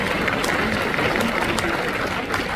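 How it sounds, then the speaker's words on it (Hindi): Steady, dense applause from a large crowd at a Constitution Day event in Vigyan Bhawan, Delhi, fills the whole stretch, loud and unbroken. "जोरदार तालियां"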